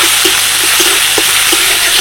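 Panch phoron, crushed ginger and green chili frying in hot oil, a loud close sizzle with scattered sharp pops and crackles as the spices hit the pan.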